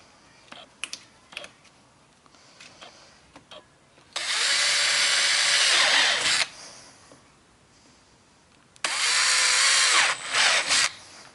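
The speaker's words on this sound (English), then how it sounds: "That's all my holes drilled." A power drill bores holes in PVC pipe for a sand scoop, two loud sustained bursts of whirring with lighter tapping and handling clicks between them.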